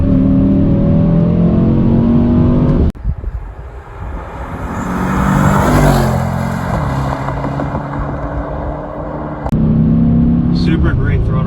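A 2021 Mercedes E63s AMG wagon with a twin-turbo V8 revs up hard, its engine note climbing, then a sharp blow-off whoosh cuts in as the throttle lifts, followed by the engine pulling again.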